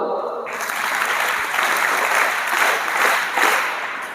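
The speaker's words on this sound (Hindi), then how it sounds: "अब ताली बजाओ" Schoolchildren at an English-medium school clap in a crowded room, a lively, continuous rattle of many small hands with gentle swells, lasting the whole stretch.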